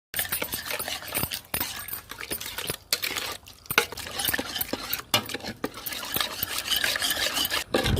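A spoon stirring sugar into a watermelon milk drink, continuous scraping and clinking against the container, close and fairly loud, alone with no talk.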